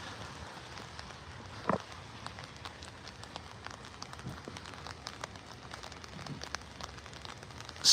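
Rain falling in Los Angeles, a faint steady patter with scattered drops tapping nearby surfaces, heard alone with no talking.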